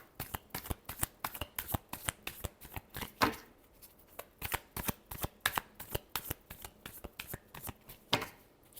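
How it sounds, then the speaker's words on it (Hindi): Tarot cards being shuffled by hand, a rapid run of crisp riffling bursts and snaps in an even rhythm, close and fairly quiet with no talking. "last shuffle"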